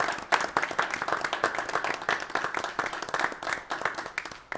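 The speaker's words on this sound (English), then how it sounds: "Let's just give him a round of applause." A smaller round of applause at a county commission meeting, distinct individual handclaps in a quick uneven rhythm from a modest group, fairly quiet and close.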